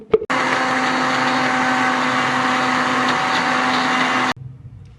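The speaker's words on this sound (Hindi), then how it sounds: "अब हम इसको ब्लेंड करेंगे पहले" A blender whirs through chilli sauce ingredients mixed with half a cup of vinegar, giving a loud, steady motor drone for about four seconds before cutting off abruptly.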